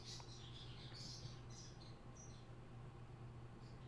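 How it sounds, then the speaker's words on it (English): Pet birds chirping downstairs, faint and distant, with short high twittering calls scattered over a steady low hum in a quiet room. "Those are the birds downstairs."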